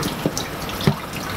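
Water runs steadily into a kitchen sink during dishwashing, a continuous close splashing hiss with a couple of brief clinks or splashes.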